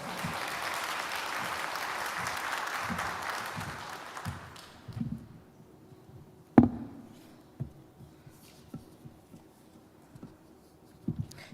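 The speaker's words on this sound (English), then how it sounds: "Word of applause for her." Audience applause at a First Ladies initiative event after the First Lady of Zimbabwe is introduced: a dense burst of clapping for about four seconds that fades out, leaving scattered isolated claps and taps in a quiet hall.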